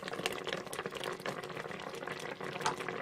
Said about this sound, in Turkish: Evet marmelatımız kaynıyor.